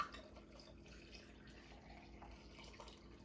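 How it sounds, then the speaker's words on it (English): Liquid herbal bitters are poured into a container, a faint, steady trickling and dripping under a low background hum, with no talking. "Pouring bitter number 3."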